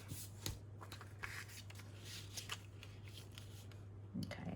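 Small scissors snip through a paper picture in a quiet room, producing a series of close, crisp cuts and rustles in an irregular rhythm over a faint steady hum.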